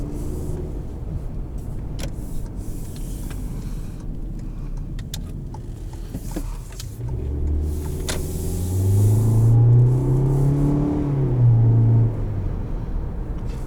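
A Toyota C-HR with a 4-cylinder engine and CVT accelerates from inside the cabin. A low, steady drone swells midway into a louder, rising engine tone, with a few light clicks and rattles.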